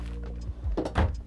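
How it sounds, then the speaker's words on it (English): A drawer in a 2021 Grand Design Reflection 260RD fifth wheel RV slides and shuts with a short rumbling glide ending in a couple of soft thuds, close and brief. "One, two, three, four drawers."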